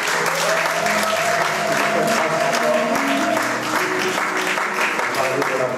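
A church congregation applauding to acclaim the Lord, sustained dense clapping from a large crowd, loud and continuous, with a voice speaking over it.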